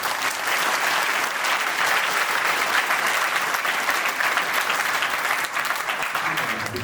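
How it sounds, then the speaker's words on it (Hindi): Large audience applause at a school opening ceremony, a thick, continuous roar of clapping hands with some crowd noise mixed in, loud and sustained throughout with no break. "तो एक बार जोरदार तालियां"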